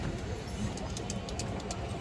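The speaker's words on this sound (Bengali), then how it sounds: "আর একটা খরা গলা মাদি কবুতর" Female pigeons, including a khaki-throated hen, coo softly and continuously in a loft. The cooing is low, murmuring and steady, with no talking.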